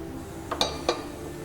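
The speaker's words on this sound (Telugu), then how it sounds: "ముందుగా మనం స్టవ్ వెలిగించుకొని కుక్కర్ పెట్టుకుందాం" A pressure cooker set down on a kitchen stove gives two sharp metallic clanks about a quarter second apart, close and clear over a quiet background.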